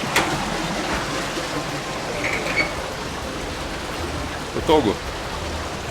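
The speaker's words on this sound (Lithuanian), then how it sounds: "Čia bėga nuo kalnų vanduo" Mountain runoff water rushes through a street channel in Ollantaytambo, Peru, a steady close hiss with a brief spoken word and a couple of short knocks over it.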